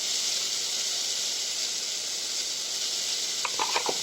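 Turmeric and salt are stirred in a frying pan over a steady hiss and sizzle, with a few faint scraping taps near the end.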